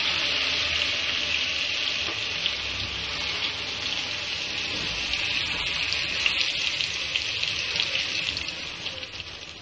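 Ginger garlic paste fries in hot ghee with a strong, continuous sizzling hiss up close, steady throughout with faint stirring ticks.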